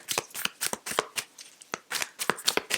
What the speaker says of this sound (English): I just feel like I need to shuffle these out